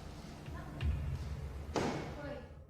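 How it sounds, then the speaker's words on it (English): A creak followed by a loud nearby bang in a social hall, heard over a background of voices and room noise, with a duller thud just before the main bang. "It sounds to me like a door creaks and then something bangs loudly nearby."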